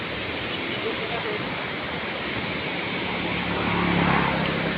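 Rushing water at Aliwagwag Falls: a dense, steady roar fills the whole clip at a constant loud level, swelling slightly near the end, and a faint voice is briefly mixed in.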